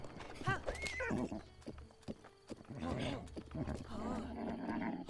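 A horse in The Legend of Zelda: Breath of the Wild on Nintendo Switch 2 gallops with steady rhythmic hoofbeats, mixed with whinnies and game sounds. A person talks over it.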